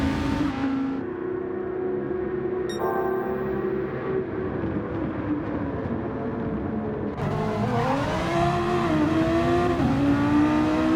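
A Dodge Viper race car engine roars steadily in a racing video game, with rising and falling pitch as it accelerates and shifts, loud and continuous throughout with no talk.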